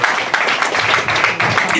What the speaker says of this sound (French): On applaudit la candidate numéro 8, s'il vous plaît, mesdames et messieurs.